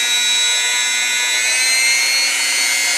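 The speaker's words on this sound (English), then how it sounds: "this is the first time I've used yellow with the Dremel, and I'm liking what I'm seeing" A Dremel rotary tool polishes a Singer 66 class bobbin case with yellow compound, giving a loud, steady high-pitched whine with tonal overtones that runs unbroken and close, with no voices.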